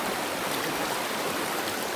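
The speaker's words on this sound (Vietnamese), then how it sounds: "Suối." A stream flows in a steady, broad rushing hiss, loud and continuous, with no voices over it.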